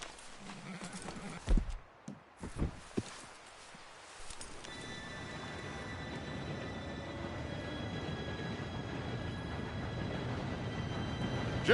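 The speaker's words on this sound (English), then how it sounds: "Train should be here" A train arriving in the video game Red Dead Redemption 2, a few knocks and hoof clops at first, then a rising rumble of wheels with a faint whistle-like tone growing louder.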